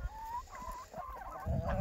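Chickens on a village farm cluck and call in short repeated bursts at close range, with low scuffling noise underneath and no talking.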